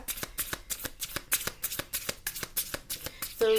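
Oracle cards being shuffled by hand in a quick, steady run of crisp riffling slaps, close and fairly loud, with no talking.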